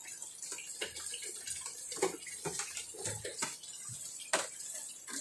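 Small waterfall splashing into a fiberglass pond, a steady close wash of falling water with irregular bright splashes and drips throughout, no voices.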